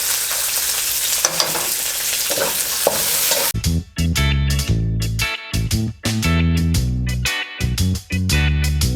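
Onion and ginger fry in a pan with a loud, dense sizzle for the first few seconds, then rhythmic music with brief pauses takes over.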